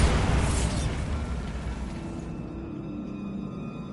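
A Bombarda spell explosion in the video game Hogwarts Legacy bursts loudly at the start, then decays into a rumbling, crackling tail that fades over a few seconds.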